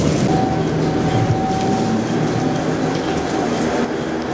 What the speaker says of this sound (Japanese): 列車は終点の米沢駅に到着しました